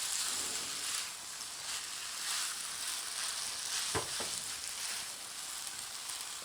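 Food sizzles and fries in a pan while being gently stirred during an Iftar cooking show, a continuous bright hiss with a couple of sharp utensil scrapes near the end.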